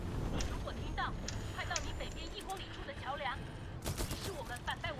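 Pistol fire in Titanfall 2 during a speedrun, a burst of rapid shots crackling under a commentator's continuous talk.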